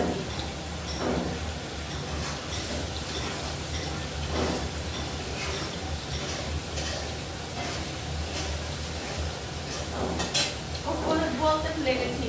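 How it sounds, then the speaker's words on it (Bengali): Spices and Katla fish curry are stir-fried in a pan, with soft continuous sizzling and intermittent scraping and stirring clatter, moderately faint throughout. "এখন ভালো করে কষিয়ে দেব"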